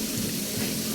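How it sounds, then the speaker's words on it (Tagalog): Stream water rushes steadily and loudly at close range during a Bicol outdoor trek, a dense continuous flow with no talk over it. "Ayun na, merong may batis."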